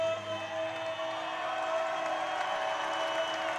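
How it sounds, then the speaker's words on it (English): A college wrestling crowd at Montevallo against Huntingdon applauds and cheers for a wrestler as he comes out, with a steady, dense wash of clapping and cheering that holds for the whole stretch. "They are there for Jeffrey, cheering him on as he comes out of the gate"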